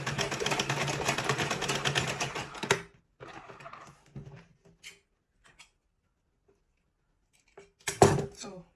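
A sewing machine stitching down the last side of a beret stiffened with boning, running in a loud, steady burst of rapid needle strokes, then stopping. Short machine bursts and quieter handling noises follow, with a brief restart near the end.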